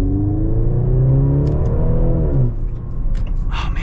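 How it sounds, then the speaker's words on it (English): A 2023 Maserati Grecale GT accelerates hard from inside, its engine note rising steadily in pitch over a loud rumble, then dropping abruptly as it shifts and pulls on with faint clicks. "So let's get another acceleration here."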